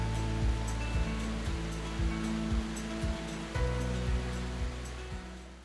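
Rhine Falls, Europe's largest waterfall in Switzerland, roars in a steady, dense rush of water that stays loud and even throughout, with no voices.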